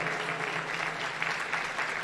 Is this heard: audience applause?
yes